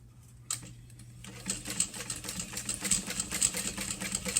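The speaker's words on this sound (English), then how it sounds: "we're going to base stitch around with 1/4 inch seam allowance" A sewing machine base stitches a seam with a quarter-inch allowance, starting after a quiet moment and building into a close, rapid, continuous mechanical chatter that grows louder and steadier.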